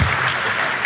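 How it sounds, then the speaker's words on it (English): A brief burst of dense audience applause for John Wallace at a live summer event, a steady wash of many hands clapping with no gaps. "please give a round of applause for number 44, Mr. John Wallace"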